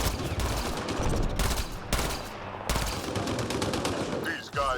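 Gunfire in the video game Mass Effect Andromeda: sustained automatic bursts, loud and close, broken by a couple of short pauses, with combat effects layered over them.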